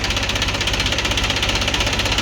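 A tractor engine runs at a steady idle, loud and close, with a continuous low chugging throb and no voices.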